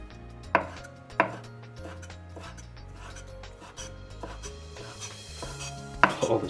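Knife chopping chiffonade-cut basil leaves on a cutting board, a few sharp taps followed by steady soft rocking cuts, close and quiet with no talk.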